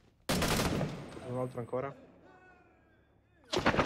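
Gunfire in Six Days in Fallujah strikes walls in loud, sharp bursts that open and close the moment, with someone speaking briefly between them.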